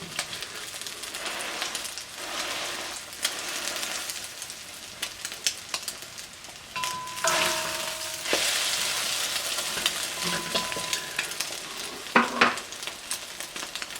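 Egg foo young fries in a pan until crispy, giving a steady close sizzle with crackling bursts and a few brief utensil scrapes and clinks partway through.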